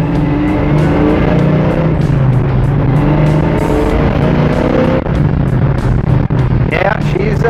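A 1966 Chevelle SS 396 V8 running, a loud steady low rumble that continues throughout, with engine revs near the end and someone talking over it.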